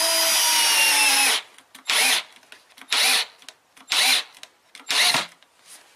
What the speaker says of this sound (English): It's sensing when to stop the drilling, which is good.